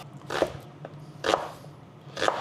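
A kitchen knife cuts onions lengthwise into long strips on a cutting board, three crisp, evenly spaced slicing strokes, close and clear with no talking.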